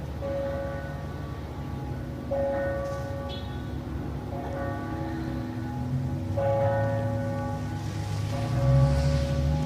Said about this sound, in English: clock bells tolling in the background